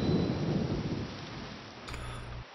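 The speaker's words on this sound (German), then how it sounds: "Und hier regnet schon wieder." Rain and thunder from the video game The Legend of Zelda: The Wind Waker HD: a steady wash of rain with a deep, rolling thunder rumble that fades, then a short low rumble near the end.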